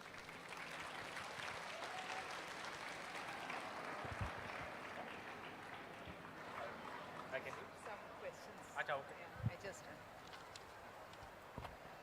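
Audience applause at the end of a memorial talk at SAI International School, a fairly faint, continuous broad clatter of many hands with a few louder claps, and a voice speaking under it.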